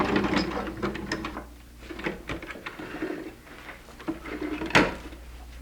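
A sewing machine stitching forward and back over the seam of pajama pants gives a close, steady mechanical whir with repeated clacking bursts where it reverses, without any talking.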